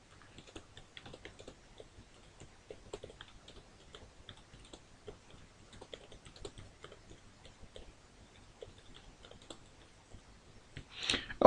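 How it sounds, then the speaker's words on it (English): Text being typed on a computer keyboard, a steady stream of quiet close key clicks with uneven rhythm and a louder clatter at the very end, no talk. "I'm just going to type in a little bit of text here to show you what it does"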